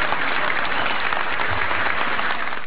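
Enthusiastic audience in Havana applauding government peace negotiators, a loud, continuous wash of many hands clapping that holds steady throughout without a break.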